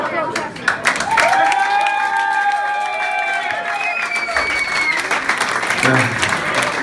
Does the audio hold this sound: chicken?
no